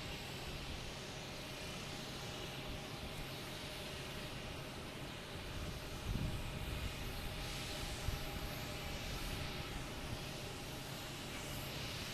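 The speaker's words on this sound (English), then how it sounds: "There's a Delta coming in, that's why. Delta coming in from Pittsburgh." A Delta airliner arriving from Pittsburgh lands at Logan Airport, its engines a steady, faint, distant roar under broad wind-like noise that swells slightly midway.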